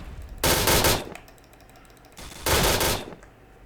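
Rapid automatic gunfire in the Point Blank shooter game, two loud, close bursts of fast repeating shots about two seconds apart, each lasting roughly half a second, with quiet background between them.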